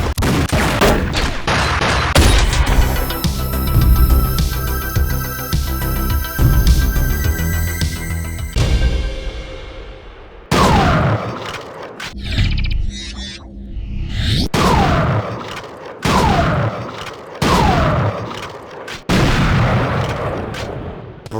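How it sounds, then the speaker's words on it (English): Shotgun fire in the first-person shooter Breed: a dense barrage of loud, close blasts gives way to single heavy booms spaced a second or two apart, each trailed by a short mechanical clatter. "A decent shotgun here to start us off."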